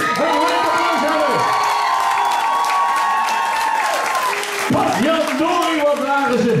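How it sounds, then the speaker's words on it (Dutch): Warm applause and cheering from a live audience after a fight, loud and sustained with whoops and crowd shouting, briefly easing before swelling again. "Mag ik hoe dan ook voor hun bij de vuur een warme applaus hebben?"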